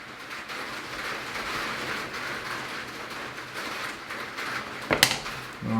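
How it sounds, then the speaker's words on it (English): Heavy rain pours steadily outdoors as a constant broadband hiss with soft patters, joined near the end by a brief sharp knock and a low hum. "it's raining very heavily right now, and I think you can hear that"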